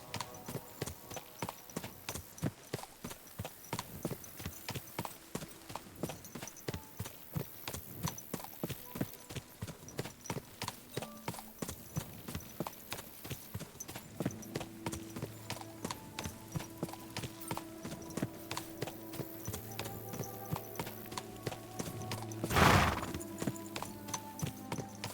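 Horse hooves clip-clop in a steady, rapid rhythm throughout, ridden in Kingdom Come: Deliverance II, with a sharp louder knock near the end and faint musical tones underneath.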